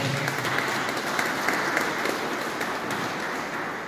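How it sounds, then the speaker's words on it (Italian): An audience at an awards evening for a nativity scene exhibition contest applauds a prize winner, a steady, dense round of clapping from many people lasting a few seconds without any speech. "quindi un applauso."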